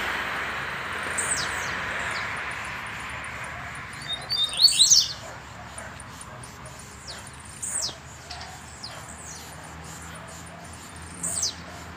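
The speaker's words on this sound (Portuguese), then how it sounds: "Ó a fêmea, olha lá que tá na sua gaiola, Rony." Caged songbirds, a female and a male, give several short bright chirps and whistled calls over a steady outdoor hiss, with louder bursts near the middle and at the end.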